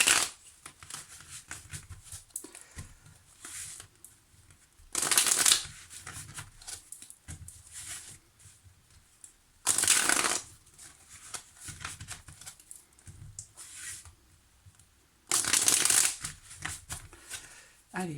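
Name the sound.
shuffling tarot cards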